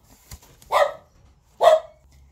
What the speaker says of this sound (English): Okay, are you done barking?